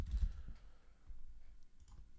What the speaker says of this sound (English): One thing about me is that I will never get better at typing.